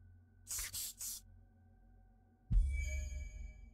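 Three short, sharp hisses of a spray can in the zombie shooter Zombie Raid, quick bursts in a row, followed by a deeper thud and a ringing, fading game effect.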